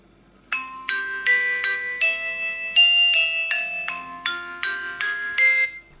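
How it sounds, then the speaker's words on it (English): A smartwatch notification melody of bright, bell-like synthesized tones, about a dozen ringing notes in a lilting rhythm that goes on for several seconds, loud and clear with nothing else heard. "I also found the notification sounds just went on for far too long"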